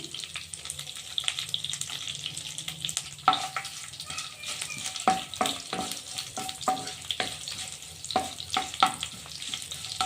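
Dried red chillies and curry leaves fry in oil with a steady, close crackling sizzle, broken by sharp stirring clatters of a spoon against the pan, while a faint trickle of water runs in the background.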